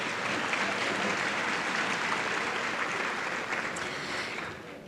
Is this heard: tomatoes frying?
no